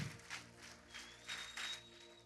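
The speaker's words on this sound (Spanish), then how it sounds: "Fuerte ese aplauso." A church congregation applauds during a sermon, a faint, distant round of clapping that swells in soft waves, with a thin tone running beneath it.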